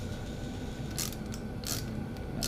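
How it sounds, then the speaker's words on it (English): A wrench tightening jam nuts on a puller during an E4OD transmission teardown, giving three quick metallic ratcheting clicks over a steady low mechanical hum, close and fairly loud, with no talk. "we're gonna start cranking her down"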